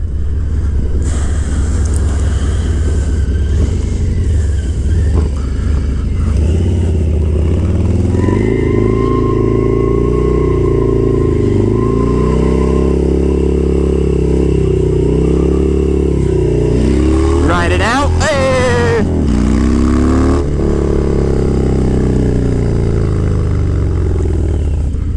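A brand-new Harley motorcycle being stunted revs hard and close, its engine note climbing and falling in long surges, with a sharp, harsh burst near the end and no voices over it.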